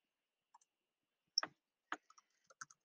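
A handful of sparse, crisp key clicks from a computer keyboard, typed irregularly in an otherwise silent room, close and fairly quiet.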